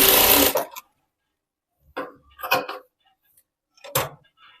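Sewing machine stitching a strip onto a blouse in a tailoring shop, running in one short loud burst at the start, followed by a few brief separate clicks and taps in near silence.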